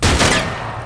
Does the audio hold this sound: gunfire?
yes